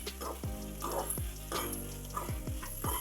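Green chilies and bottle gourd fry in a pan for pachadi with a steady sizzle, while a utensil stirs and scrapes through them at a loose rhythm. Nobody speaks.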